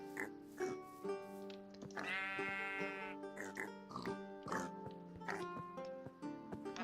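Pigs, including piglets, oinking in the Terrafirmacraft mod of Minecraft, a run of nasal grunts and squeals repeating every second or so over steady game music, fairly faint and with no voice over them.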